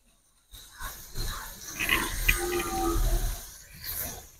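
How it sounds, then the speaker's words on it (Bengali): Bitter gourd slices frying crisp in hot oil, a soft steady sizzle and hiss with small crackles, close and fairly quiet, starting abruptly after a brief silence. "এবার আমি করলাটা বেশ ভালো করে মুচমুচে করে ভেজে নেব"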